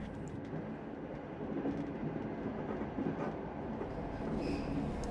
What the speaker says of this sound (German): Zuerst muss ich mit dem Zug nach München fahren.